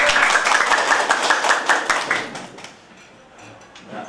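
Guests at a wedding clap together in a quick, steady burst of many hands close by, fading out toward the end with a few scattered claps.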